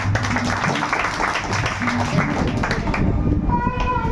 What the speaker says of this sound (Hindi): वेरी गुड, तालियां बजाइए।